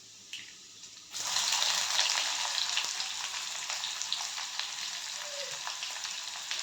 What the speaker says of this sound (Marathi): कांदा पण छान गोल्डन ब्राऊन होईपर्यंत तेलामध्ये परतून घ्यायचा